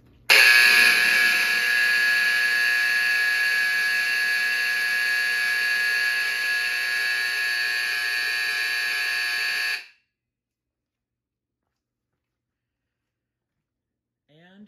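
A vintage National Time fire alarm horn blares loudly and continuously for about ten seconds, a harsh buzzing tone with strong harmonics, then stops abruptly, leaving silence.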